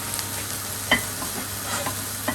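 Tikka masala sauce sizzles and bubbles steadily in a pan, a soft close crackle with an occasional clink from stirring.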